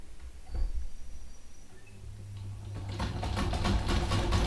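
A sewing machine running as it stitches fabric, a low motor hum that builds into a rapid, steady chatter of needle strokes, close by and growing louder toward the end.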